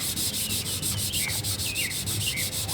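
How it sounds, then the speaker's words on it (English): Steady hand sanding of glazing putty on the body of a 1963 Cadillac, a continuous close, loud scratchy rub with slight back-and-forth pulsing and no talk. "And this glazing putty, it sands real easy."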